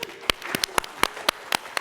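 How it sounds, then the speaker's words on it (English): Sparse, scattered clapping from a few people in a conference keynote audience, about a dozen separate claps across two seconds, fairly faint with no crowd roar. "That was the biggest applause I heard in the keynote."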